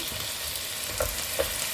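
Potato pieces frying in hot oil in a pan for a Bengali aloo potol curry, a steady close sizzle with a couple of faint stirring knocks.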